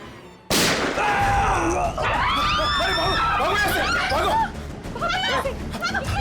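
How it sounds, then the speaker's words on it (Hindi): A sharp, loud bang bursts out abruptly near the start, followed by a dense, noisy tail of echoing clatter and chirping sounds that continues throughout. "अंदर गोली चली अंदर।"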